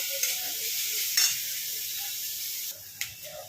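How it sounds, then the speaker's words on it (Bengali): Vegetables lightly frying in a pan for a chow mein dish, a constant hiss of sizzling oil with a few scraping and clinking stirs of a utensil, with no talk. "এটাকে একটু ভেজে নেবো আমি"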